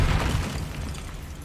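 A Confringo blasting spell goes off in a Harry Potter video game during a fight with a troll. One loud, deep boom hits hard and then rumbles away over about a second.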